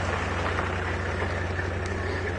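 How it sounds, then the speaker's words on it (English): A safari game-drive vehicle idles steadily in the background at a game reserve, a low continuous engine drone holding under faint outdoor ambience for the whole stretch. "So we've just got another vehicle turning up"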